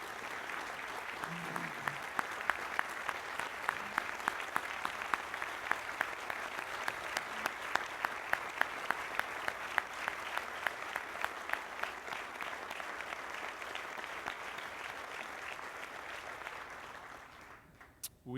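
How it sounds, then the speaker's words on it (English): Long, sustained applause from a crowd at a charity golf classic event, a dense rain of claps with a few sharper ones standing out, heard from some distance and fading away at the close. "Could we get her to stand up and applaud her?"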